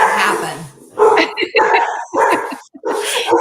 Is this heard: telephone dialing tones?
no